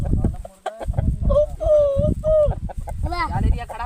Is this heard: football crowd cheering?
no